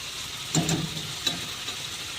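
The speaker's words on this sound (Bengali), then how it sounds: "পেঁয়াজটা আমি একটু ভাজা ভাজা করে নিলাম" Onions frying in a pan with ginger for a pomfret mustard fish curry; a steady, close hiss of sizzling with a couple of soft stirring scrapes.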